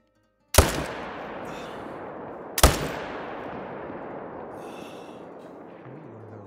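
Two sharp rifle shots from the hunting game TheHunter: Call of the Wild, about two seconds apart, each a loud crack followed by a long rolling echo decaying into quiet outdoor ambience.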